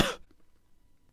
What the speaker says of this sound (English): Hit pause and use trimming to remove this cough from the recording.